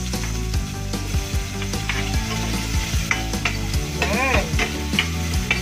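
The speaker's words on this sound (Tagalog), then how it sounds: "Igisa na natin itong bawang. Tapos isalin na agad ang sibuyas." Garlic sautéing in a pan, then onion tipped in, with a loud sizzle under clattering spoon strikes against the pan, close up, while a voice speaks briefly over it.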